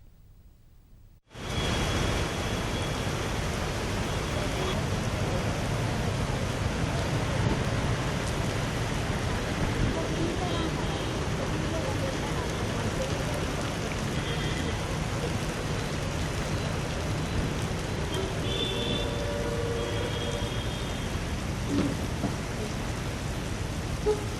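Dense, continuous roar of heavy rain with gusting cyclone winds in Chennai, steady and enveloping for over twenty seconds after an abrupt start.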